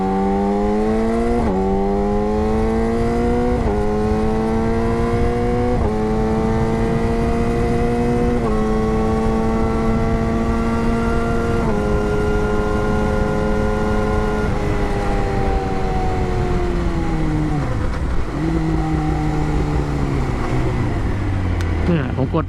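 A motorcycle fitted with aftermarket Italian sintered brake pads roars steadily as it rides, its engine pitch climbing and stepping through gear changes before dropping as it slows, with a rider talking over the engine throughout.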